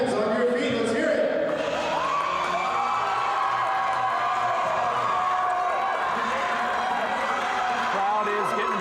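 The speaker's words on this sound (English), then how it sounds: "Crowd is getting pumped up here with 28 seconds left to go" Crowd noise at a Jefferson College women's basketball game against Parkland CC, with fans cheering and whooping steadily and loudly throughout under an announcer's voice.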